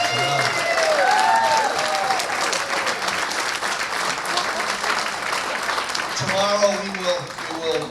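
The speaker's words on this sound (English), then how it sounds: "So let's give Claire a round of applause." Sustained applause from a large crowd at a conference welcome dinner fills the whole stretch, steady and loud, with a few voices rising above it near the end.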